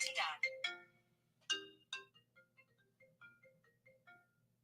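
A phone ringtone for an incoming call plays a short melodic chime pattern, a few bright tones after a brief burst of talk, fairly quiet and close.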